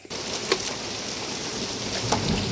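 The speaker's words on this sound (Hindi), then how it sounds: "अब और ज़्यादा ओले पड़ रहे हैं जैसे जैसे बारिश तेज़ हो रही।" Heavy rain pours in a dense, steady hiss, with a couple of sharper hail ticks standing out above the downpour.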